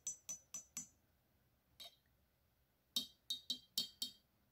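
Lab-grown quartz crystals clinking together with bright, glass-like chimes: a quick run of four taps, a lone tap, then a faster cluster of five, heard up close and alone.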